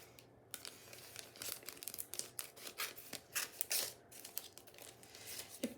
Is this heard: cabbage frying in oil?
no